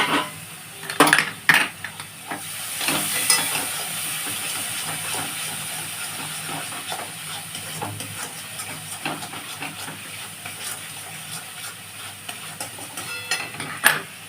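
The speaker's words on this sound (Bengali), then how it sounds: "টক দই দিয়েই নাড়তে নাড়তে করতে হবে" Spinach being stirred with a spoonful of sour yogurt in a pan over low gas, giving a steady steamy hiss with a few sharper scraping knocks near the start and end, close by with no talking.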